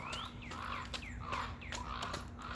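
Crows calling from somewhere overhead near an old incinerator, several harsh descending caws repeating at a steady rhythm over a low, constant background hum.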